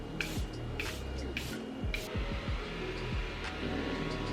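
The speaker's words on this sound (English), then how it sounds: "I'm gonna also set my face with the Milk Makeup Pore Eclipse Matte Setting Spray." Milk Makeup Pore Eclipse Matte Setting Spray is misted onto a face in four quick hissing pumps, close and fairly soft, with faint handling noise and a steady low background hum.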